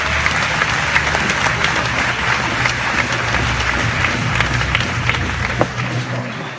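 A fight-event audience applauds the judges and referees with steady, dense clapping that fills the room from start to finish at an even level, with a faint low hum underneath.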